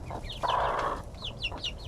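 Baby chickens cluck and chirp up close, with several short peeping calls over a soft, steady background hum.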